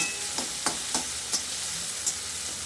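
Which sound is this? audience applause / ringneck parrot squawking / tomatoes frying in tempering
tomatoes frying in tempering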